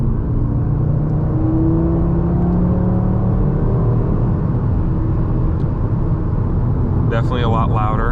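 A 2024 8Y Audi RS3 with Unitronic midpipes and exhaust valves open gives a loud, steady engine rumble with a slight rise in revs, close by, as a person speaks near the end.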